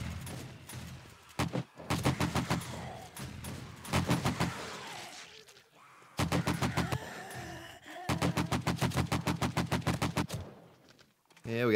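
Bursts of gunfire from zombie shooting in 7 Days to Die (Alpha 16) on horde day, rapid repeated shots in several volleys across the clip, loud and close, with faint talk mixed in.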